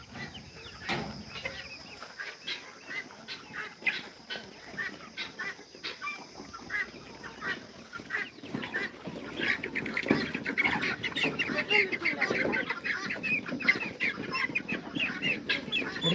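Country chickens clucking at evening feeding time on a farm, many birds close by with overlapping clucks and calls that grow busier and louder as the flock feeds, with a few duck- or goose-like honks mixed in.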